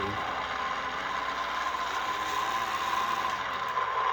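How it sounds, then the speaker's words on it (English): A steady, whiny electronic engine hum from the sound unit of an Axial Capra 1.9 4WS RC car, going from idle to accelerating, plays continuously at moderate volume, holding a fairly constant pitch with a slight rise toward the end. "the sound changes from a motor idling to a motor accelerating."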